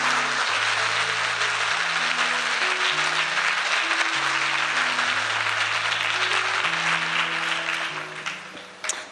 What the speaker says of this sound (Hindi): आइए यीशु के लिए जोरदार ताली बजाएंगे